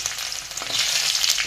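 Garlic fries in hot oil with mustard seeds and curry leaves, giving a steady, close, bright sizzle with no talking.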